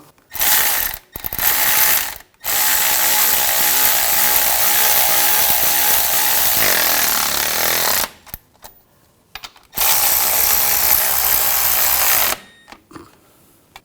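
Ratchet wrench tightening alternator mounting bolts on a 2006-2010 BMW 550i, heard as long runs of rapid, even clicking close up, broken by short pauses between strokes.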